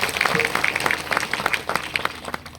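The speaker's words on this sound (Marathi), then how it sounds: "एकदा जोरदार टाळ्या वाजवा या दोघांकरता" An audience at a kirtan applauds loudly for the accompanying musicians, with dense, sustained clapping from a crowd and a faint voice underneath.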